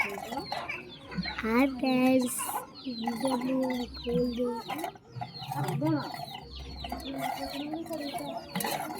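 Chickens clucking and squawking close by, several calls in irregular bursts, with people talking over them.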